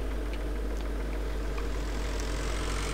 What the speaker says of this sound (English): Oh, the Ford 3000, it's not that small a tractor.